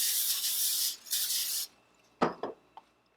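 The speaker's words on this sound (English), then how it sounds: "I take some Pam spray, spray the bottom of the pan" Two hissing bursts of Pam cooking spray hit a pan, followed by a few soft clicks and knocks.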